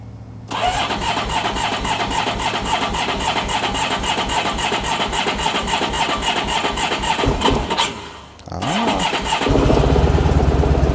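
A motorcycle that has sat unused all winter cranks with a steady rhythmic churn for several seconds, briefly falters, then catches and settles into a loud, close, running engine note.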